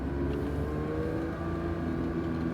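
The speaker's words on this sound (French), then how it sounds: "on accélère légèrement en continu" Porsche 911 GT3 engine pulling steadily under light continuous throttle on a race circuit, a loud sustained in-car drone with smooth tones that hold without pause through the stretch.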